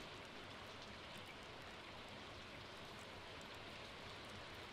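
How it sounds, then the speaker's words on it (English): Rain falls steadily in Stardew Valley, a dense, even hiss of drops that fills the short stretch at low volume with no voices. "Good way to pass the time during the rain. Just sit in the chair and listen to it."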